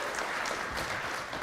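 Audience applause thanking a panel of health and wellness industry leaders at an evening event, steady dense clapping from a crowd filling the whole stretch without talk.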